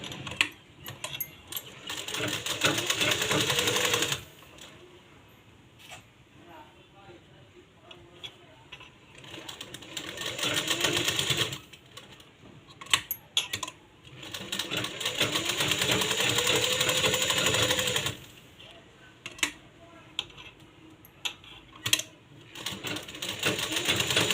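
An electric sewing machine stitches fabric for a baby cap in loud steady runs of several seconds, separated by quieter pauses with clicks and handling of cloth.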